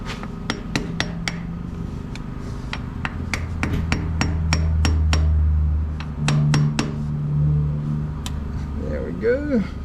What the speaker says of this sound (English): I'm going to probably get a screwdriver, kind of go in here and collapse that seal so we can pull it out.